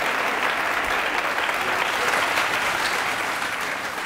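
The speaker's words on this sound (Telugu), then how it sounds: "నేను ఒక అచీవర్ని, చప్పట్లు కొట్టండి" A studio audience on the Aap Ki Adalat TV courtroom show applauds Anu Malik with steady, dense, loud clapping that holds evenly throughout.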